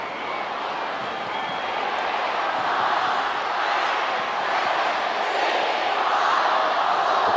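Stadium crowd of some 24,500 at a 1994 Canterbury versus Canberra rugby league match roars in a steady, dense wash of cheering and noise that swells slightly toward the end, continuous and loud throughout.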